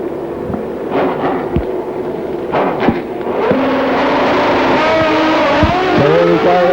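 Drag racing motorcycles at Avon Park launch with sharp popping bursts, then settle into a loud, sustained engine roar as they accelerate away down the strip.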